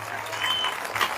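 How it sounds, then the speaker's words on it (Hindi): An audience at a church meeting claps for the Lord, a dense, steady patter of many hands, with a voice faintly mixed underneath. "अगर आप प्रभु के लिए ताली बजा रहे हैं तो अच्छे से बजाइए"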